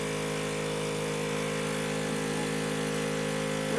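Medical suction machine cleaning out a filter, giving a steady loud electric motor hum with a constant hiss and no breaks, close by.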